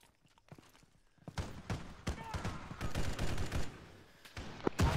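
Gunfire in the Arma 3 military game: a fast, uneven fusillade of sharp shots and bursts, some close and loud, others quieter and more distant, rolling on for several seconds.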